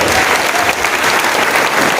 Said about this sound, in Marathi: संजय विभूते करता एकदा जोरात टाळ्या सर्वांना